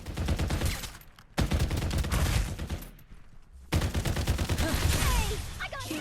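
Rapid automatic gunfire rattles in the Farlight 84 video game, dense sustained bursts broken by two short pauses, loud and close.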